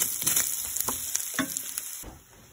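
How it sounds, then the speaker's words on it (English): Soft crackling and sizzling from bacon frying in a pan, with a few scraping stirs, fairly quiet and steady throughout. "I'm going to cut them into small pieces and fry them in a frying pan"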